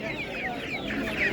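Poultry at a chick and duck market cluck and chirp close by, a short burst of overlapping high calls.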